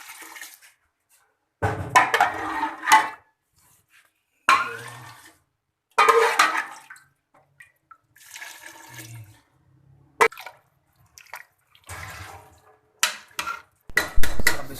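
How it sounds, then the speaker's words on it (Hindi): Water splashes and gushes into a cooking pot in several separate bursts, each pour lasting a second or so, with quiet gaps between them, close up. "आधा किलो वाले 3 डूंगे पानी के डाल दिए जी इसमें"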